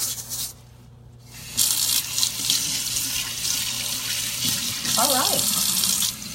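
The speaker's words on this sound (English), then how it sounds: "I love these sprayers, you know, that they have on the sinks to easily clean out everything." A kitchen sink sprayer rinses out a garbage disposal with a steady hissing rush of water that pauses briefly and resumes, while a person speaks a few words over it.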